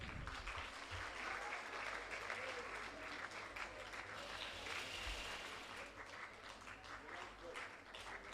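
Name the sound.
audience applause for quiz winners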